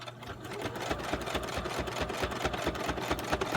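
A sewing machine stitches a zigzag while making a folding pocket notebook for a journal, a rapid steady mechanical whirring and clatter that runs continuously and close by, with no voices.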